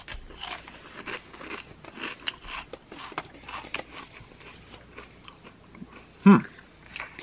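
Pringles Wavy MOA Burger flavor crisps crunched and chewed close to the mic, a steady run of crisp bites and mastication with one louder crunch near the end.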